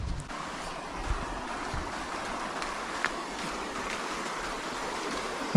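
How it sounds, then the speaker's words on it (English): Steady rushing water of a river flowing near a campsite in New Zealand's Kauaeranga Valley, a constant broadband wash at moderate distance with no voices. "I'm gonna go down to the river and"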